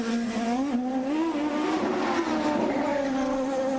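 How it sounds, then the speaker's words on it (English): A 2003 Champ Car racing through qualifying at the Miami Grand Prix of the Americas on a bumpy track, its engine a loud, close, wavering high drone that rises and falls with the throttle. "Now on track, Alex Sparafico. Driving for Dale Coyne Racing."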